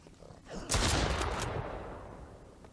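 Burst of gunfire in the survival video game Mist Survival, a loud clustered volley erupting after a brief quieter lead-in, then fading into a lingering rumbling tail.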